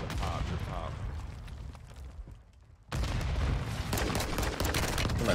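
Heavy gunfire in the shooter video game Warzone 2, a loud close barrage of shots and blasts that drops briefly and then resumes in a sustained burst, with a voice calling out during the firing.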